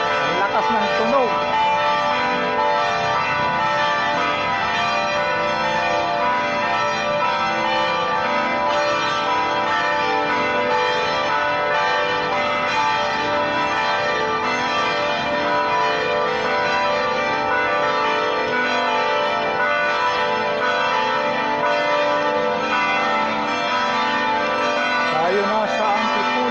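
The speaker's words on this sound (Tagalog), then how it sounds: "Ang lakas ng kampana, no?" Church bells of the church in Antipolo ring continuously and loudly, a dense layered peal sustained throughout, with faint voices underneath.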